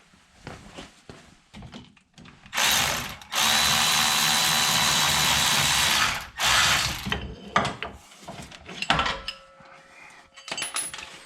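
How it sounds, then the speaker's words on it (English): A power tool whirs in loud bursts, one long sustained run and several shorter ones, while a 14 mm socket works the alternator bracket bolts in a quiet garage, with clicks and handling noises between. "So I'm going to grab a 14 socket,"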